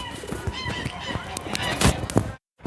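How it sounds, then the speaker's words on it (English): Geese honk loudly and close by along a river in Italy, a dense flurry of overlapping harsh calls with some rustling, cut by a brief silence near the end. "Help! The geese are coming after me."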